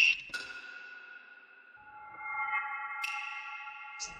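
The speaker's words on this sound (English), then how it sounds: "This is the most moist reverb you ever heard." Synthesized pings in Ableton Live ring out through a lush, wet reverb, each bright tone hanging and decaying slowly into long shimmering tails, with fresh hits near the start and again around the three-second mark.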